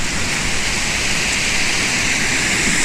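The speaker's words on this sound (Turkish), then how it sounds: "yavaş yavaş şelalenin yanına doğru yaklaşıyoruz" A waterfall in Germany roars steadily, a loud, unbroken hiss of rushing water filling the scene.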